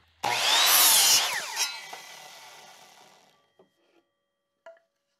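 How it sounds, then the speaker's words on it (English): Power saw biting into 2x lumber, a loud close whine for about a second that winds down over the next couple of seconds, followed by a few faint knocks of wood being handled. "Here I'm cutting down some of the 2x material just to clean it up a little bit"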